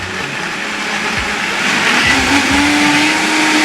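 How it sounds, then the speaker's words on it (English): A Vitamix blender whirring through tomato, zucchini and papaya, a loud steady motor roar that climbs in pitch partway through as the blades catch, with no talking over it. "Gonna blend that up. Get your Vitamix right here."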